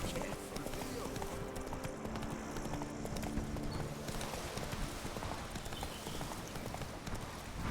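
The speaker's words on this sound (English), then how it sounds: "Whoa there, Roach." In the Witcher 3 Blood and Wine expansion, a horse's hooves clop in a quick steady trot, close and continuous, mixed with game ambience while characters speak over it.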